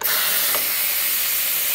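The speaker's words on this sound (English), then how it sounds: "So all of that pressure is gonna come right out. All of the steam's gonna come out." A pressure cooker vents steam in a loud, steady hiss that starts abruptly and holds at full strength throughout, with no talking.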